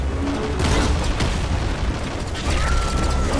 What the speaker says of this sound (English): Those were, in fact, homing missiles.